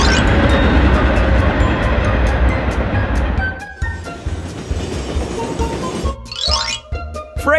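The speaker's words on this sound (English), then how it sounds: "Freight train." A freight train rolls by with a steady, loud rumble of wagons that gradually thins out, followed by some metallic clanks and a rising squeal toward the end.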